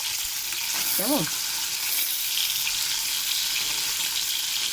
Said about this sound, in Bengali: এক এক করে সব ভাজবো,